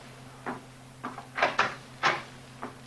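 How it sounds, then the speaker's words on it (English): A front door is opened in a Sherlock Holmes radio drama: a quick run of wooden knocks, latch clicks and thuds close by, spread over a few seconds with quiet gaps between. "Mrs. Hudson's opening the door to him now."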